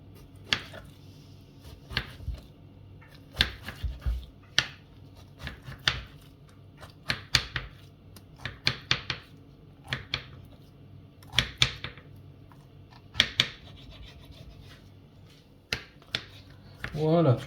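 A knife cuts soft grilled eggplant into small pieces on a board in irregular sharp taps and chops, close and fairly loud, while a person talks between the cuts.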